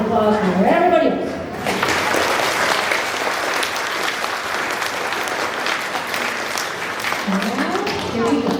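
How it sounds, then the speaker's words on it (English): Audience applause at a kindergarten through second grade spring school music program, a steady roar of clapping filling most of the clip, with a voice speaking at the start and again at the end. "So give them an applause for everybody else."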